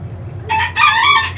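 A rooster crows loudly and close by in a farm chicken coop, one full call rising over a low, quiet background.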